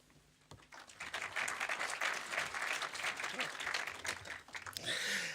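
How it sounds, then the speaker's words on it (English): An audience applauds at a film introduction for Selma, the clapping rising quickly and holding steady as a dense, sustained wash of many hands before tapering near the end. "It's always somewhat strange and gratifying when people clap you before you've even got up and said anything yet so far."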